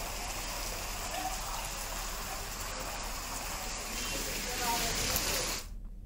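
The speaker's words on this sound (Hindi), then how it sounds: "यहां पर भी बदरा जमकर बरस रहे हैं" Heavy monsoon rain pours down in a dense, constant hiss, loud and unbroken, before cutting off abruptly near the end.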